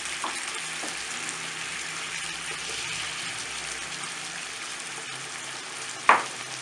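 Chicken cooks in a pan with diced zucchini and cherry tomatoes, giving a soft, continuous sizzle and frying hiss with a few faint stirring clicks and a brief sharp scrape near the end.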